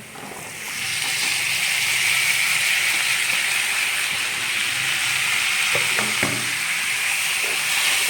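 Potatoes tipped into a hot pan already seasoned with chilli powder and spices, setting off a loud, continuous sizzle that holds steady up close, with a few soft stirring knocks near the end.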